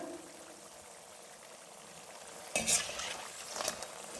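Quiet bubbling of vegetable pakoda frying in oil, then a louder crackling sizzle with stirring and scraping noises near the end.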